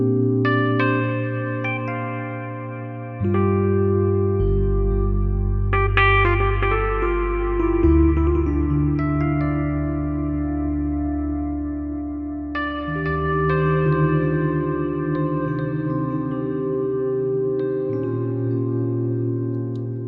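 A Nord Stage 4 keyboard plays sustained chords and melodic notes through a big cathedral reverb, with long, washing tails blending each change into the next and rich low tones throughout, without any talking.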